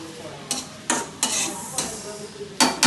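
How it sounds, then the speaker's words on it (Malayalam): Onion, garlic and ginger are stirred in a hot pan, a soft frying hiss punctuated by several loud scraping strokes of a spoon, close and alone without talk. "നന്നായി ഒന്നിത് ഇളക്കാം. നന്നായി ഒന്നിത് ഇളക്കുന്നുണ്ട്"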